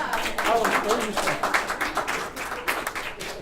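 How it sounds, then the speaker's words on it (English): Applause from a workshop audience at a talk on working with Latino families, steady clapping throughout with voices and talk mixed in over it. "round of applause"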